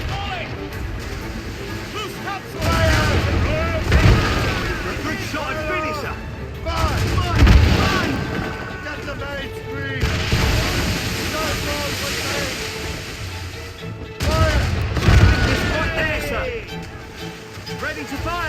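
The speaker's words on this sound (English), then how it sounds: "They are firing a volley!" Loud headwind buffets the microphone in constant rumbling gusts while mountain biking the Elan Valley trail, nearly drowning out a voice speaking through it.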